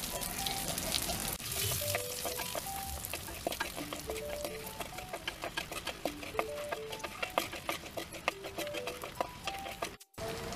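An egg fries in a pan with a little chili powder for Kerala-style egg masala. A steady, close sizzle and crackle runs for about ten seconds, with small tonal blips over it and no talking.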